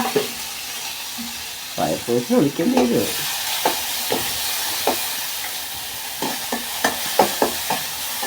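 Mustard seeds sizzling and popping in hot oil, a hissing fry punctuated by sharp spatula taps and clinks, with brief clattering bursts near the start.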